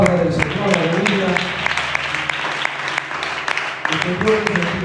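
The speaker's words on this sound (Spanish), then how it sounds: "Un aplauso a la palabra del Señor" Church congregation applauding after a sermon: clapping runs throughout at moderate volume, mixed with voices and some background sound, and a few sharper claps stand out.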